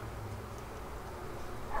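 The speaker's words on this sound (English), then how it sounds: "There are a million bees on here." Honey bees buzzing on a hive frame during an inspection, a soft continuous droning hum from a dense mass of bees, steady and fairly faint with no speech.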